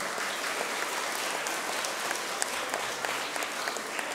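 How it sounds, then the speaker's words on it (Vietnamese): Audience applause fills the whole stretch, loud, dense and steady, with no voice heard over it. "Và cho một tràng vỗ tay thật lớn nào."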